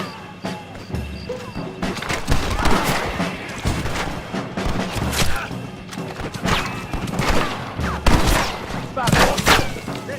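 Rapid gunfire from a Red Dead Redemption 2 shootout: dense volleys of shots and thuds go on throughout, loud and close, mixed with game voices shouting.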